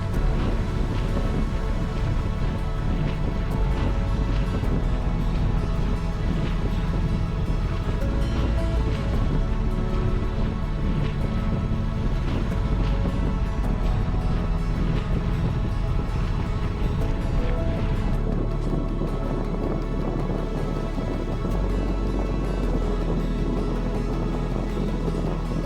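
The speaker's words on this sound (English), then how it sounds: "So we're still chugging along on the motor." A sailboat motoring under engine power on open water, with a steady low drone mixed with continuous wind buffeting and wash of waves, loud and unbroken throughout.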